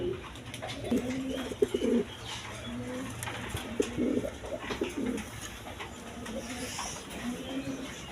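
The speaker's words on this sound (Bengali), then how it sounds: "তাছাড়া আর অন্য অন্য কবুতর আছে" Pigeons, red Jacobin and Maltese breeds for sale, coo in repeated low throaty bursts nearby over a faint hum, with a few soft rustles and wing sounds between calls.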